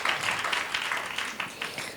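Congregation applause at a church women's event, steady dense clapping heard at a moderate distance with no voices over it.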